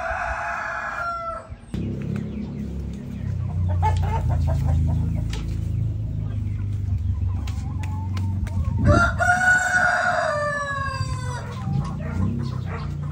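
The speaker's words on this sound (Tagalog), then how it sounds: "Rhode Island White yan." Rhode Island White chickens on a farm in Davao del Sur, with crowing at the start and again near the end over steady clucking and scratching, all close and clear.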